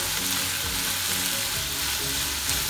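Chopped onion and green chillies sautéing in a pan for Kerala-style pork roast, a loud, dense, continuous sizzle close up, with no talking and a faint melody running beneath.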